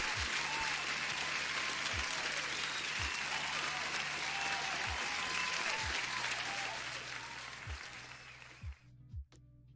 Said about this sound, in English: You deserve an applause for coming forward